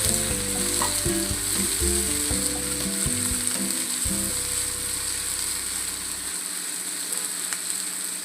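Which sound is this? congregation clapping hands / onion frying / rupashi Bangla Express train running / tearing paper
onion frying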